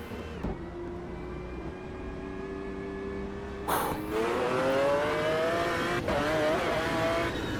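GT1 race car engine in the Automobilista 2 racing game at dawn, a loud steady drone that rises sharply in pitch partway through as the car accelerates, with no talk over it.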